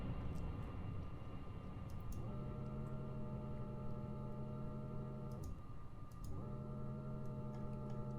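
VTOL plane taking off in Kerbal Space Program, a steady droning engine tone with layered hum that dips and surges twice, plus faint ticking clicks, moderately quiet and continuous with no talk.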